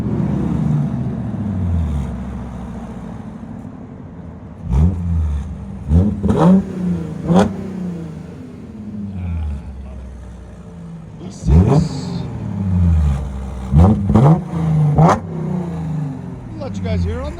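A 2018 Audi A7 with a 3.0L supercharged V6 and muffler-deleted exhaust idles with a low burble, then barks through several sharp throttle blips in two clusters, each rev rising and falling quickly, loud and close.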